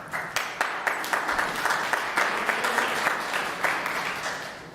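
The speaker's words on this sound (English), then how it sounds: "You all can clap for that." An audience in a church hall applauds warmly, a dense, even patter of many hands clapping continuously with a few sharper individual claps standing out, heard alone without talk.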